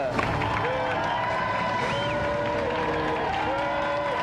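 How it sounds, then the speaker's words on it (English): Studio audience applause and cheering for three game show challengers on a video games show, a broad steady crowd wash throughout with music tones over it. "another round of applause for our three challengers, Alistair, Chi and Simon"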